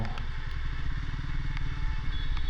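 A Triumph Speed T4 motorcycle hums steadily while riding, its engine putting out a continuous low rumble with wind noise and occasional faint clicks, no speech.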